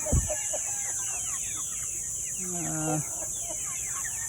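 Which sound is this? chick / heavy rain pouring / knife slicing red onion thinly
chick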